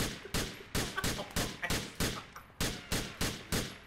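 Rapid gunshots fire in a police-patrol mod of a video game, about a dozen sharp close reports in an irregular burst-like rhythm, each with a short decaying tail.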